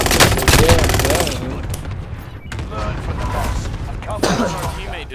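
Loud gunfire in the video game Call of Duty Warzone: rapid automatic bursts up close, then scattered shots and a sharp impact near the end, mixed with voices talking over it.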